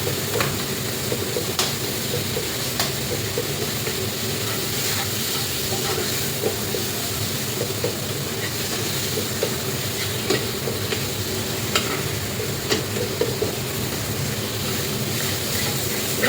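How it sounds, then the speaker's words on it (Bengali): Onion and garlic frying in oil in a pan for a bhorta, a continuous loud hissing sizzle with scattered crackles and light scraping throughout. "পেঁয়াজ তো ভেজে নিচ্ছি, রসুনও ভেজে নিচ্ছি"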